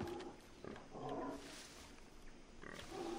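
A pig grunts and snorts in the video game Far Cry 3, a few rough calls at moderate distance over a constant in-game ambient bed.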